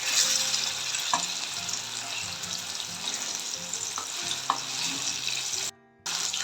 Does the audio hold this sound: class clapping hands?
no